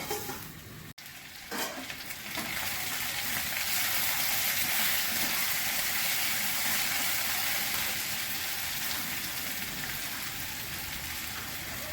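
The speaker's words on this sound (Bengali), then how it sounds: "লতিটা একটু ভেজে নিলাম।" Kochur loti, taro stolons, sizzling steadily in a hot pan, a dense continuous hiss that swells after a brief lid clatter at the start and holds loud and even throughout, no voices.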